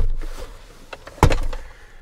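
A ski hatch in the rear seat of an Audi SQ2 opens with a sharp latch click, a short rustle of movement and a second crisp clack at the end, close and moderately loud.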